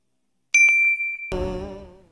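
A notification bell ding sound effect: a clear, bright single tone that holds for under a second, then a second richer chime strikes and rings out, fading away, with no voices.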